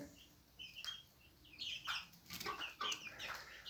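Hens cluck and chirp in short irregular bursts, fairly close, over a steady background hiss, with a brief flutter of activity midway.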